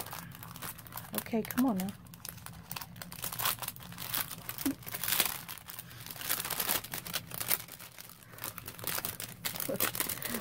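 Paper envelopes being handled make close crinkling and rustling bursts with irregular crackles throughout, while a person talks briefly over them.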